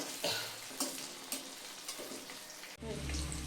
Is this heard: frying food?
yes